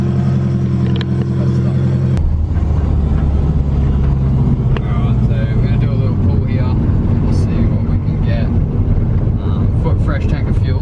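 A Subaru WRX GC8 engine pulls hard under full throttle, a loud, rising roar of rumbling exhaust with gear changes that holds steady throughout, close by, over wind buffeting.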